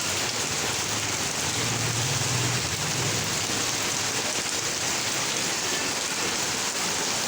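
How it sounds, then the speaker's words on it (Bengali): Heavy rain pours down steadily in a continuous dense hiss, with no break in the downpour and a faint low rumble underneath. "খুব বৃষ্টি পড়ছে"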